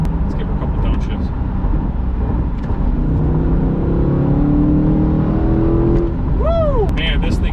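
A 2020 Corvette with the LT4 engine revs loudly through a couple of downshifts on a freeway, its engine note rising and falling in strong sweeps over steady road roar, with a brief whoop near the end.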